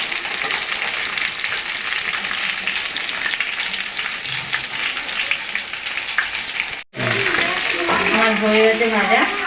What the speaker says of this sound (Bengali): আরও দুটো ভেজে নেবো।